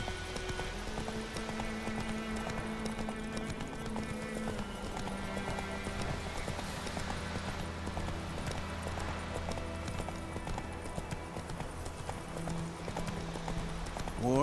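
Horse hooves galloping in the video game The Witcher 3, a steady, rapid clip-clop rhythm running continuously at moderate loudness.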